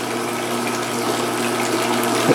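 A pool filter pump pushes water through a large filter bin and back into the pool, circulating slowly. The result is a steady, close churning of pumped, gushing water with a faint mechanical hum underneath, running without pause or speech.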